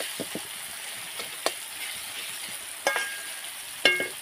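Chicken being sautéed in a pan on a wood-fired chulha stove, a soft background sizzle broken by a few sharp clinks and scrapes of stirring, with no voices.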